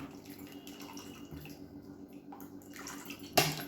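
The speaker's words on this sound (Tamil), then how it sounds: "இப்போ வந்து புளி தண்ணி சேர்த்துட்டு அதுக்கப்புறம் தண்ணி ஊற்றிக்கலாம்." Tamarind water poured into a cooking pot for a quick lunch dish, a soft continuous liquid trickle with a sharper splash near the end, no talking.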